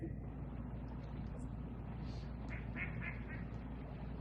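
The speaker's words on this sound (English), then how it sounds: "Got a duck out there that went through the same thing." A duck quacks outdoors, a short run of nasal quacks about midway through, heard over a steady low rumbling background.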